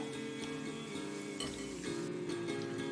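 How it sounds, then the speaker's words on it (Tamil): Medu vadai, urad dal fritters, fry in oil over a medium flame, giving a soft, steady, quiet sizzle with faint occasional clinks and no talking. "நல்லா மீடியம் ஃப்ளேமில் இது நல்லா வேக விடுங்க."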